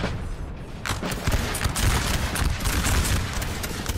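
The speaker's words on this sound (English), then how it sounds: "Oh, we may actually have some troops firing against the French." Musket volleys from troops fighting the French in Napoleon: Total War, a continuous crackle of massed gunfire with repeated booms and dense rumbling shots that holds steady and loud throughout, with no talking.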